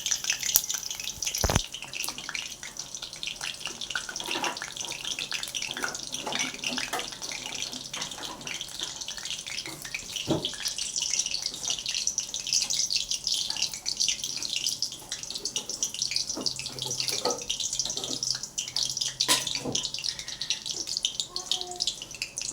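Cumin seeds and a halved green chili hit hot oil in a home kitchen while making varan phal, giving a steady hissing sizzle that runs throughout with a few sharp clicks and spatters.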